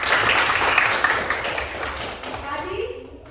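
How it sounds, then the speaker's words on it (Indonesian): A classroom of students claps for a student group that has just presented, a dense, steady burst of applause running throughout and thinning toward the end. "tepuk tangan dulu untuk orang itu"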